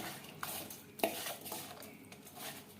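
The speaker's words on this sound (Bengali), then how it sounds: "মাছ বেশ ভালো করে মেখে নেব।" Snakehead fish being mixed by hand with salt and turmeric in a metal bowl, giving a few soft clinks and wet squelching rubs, close and quiet, with one sharper clink partway through.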